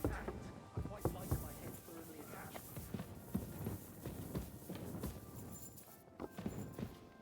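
Horse hooves clip-clop at a walking pace in the video game Kingdom Come: Deliverance II, steady and moderately close, mixed with rustling ambience and occasional speech.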